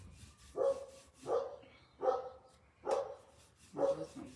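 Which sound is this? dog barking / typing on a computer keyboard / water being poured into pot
dog barking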